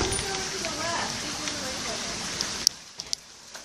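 Rain falls steadily on a surface, a dense hiss that drops away near the end, leaving a few scattered clicks and drops.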